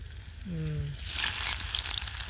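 Onion dropped into hot oil with frying garlic bursts into a loud, steady sizzle after a brief tonal sound, crackling on continuously and close.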